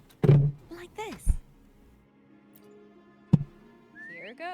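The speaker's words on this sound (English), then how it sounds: "Why don't you call Foam over? Try whistling." In a video game, a character whistles a short rising call to summon a whale, sounding as a few bright clear tones between bursts of speech and soft thuds.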